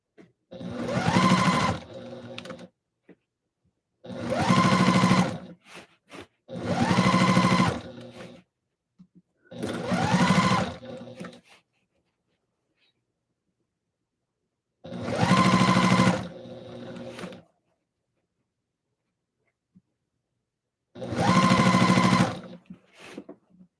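Sewing machine stitching a ruffle for an Etsy order: six separate bursts of fast, steady mechanical whirring, each a second or two long, with quiet pauses between them.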